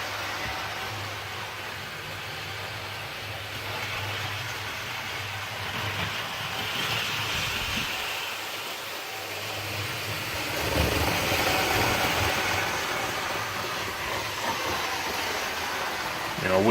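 A model railway train runs steadily around a track corner, with a continuous close mechanical rumble and hum that swells partway through.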